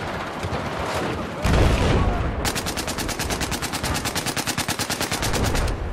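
Rapid automatic weapon fire in the Battlefield 4 multiplayer map Flood Zone, a loud burst and then a long steady stream of evenly spaced shots, close and sharp, over faint background din.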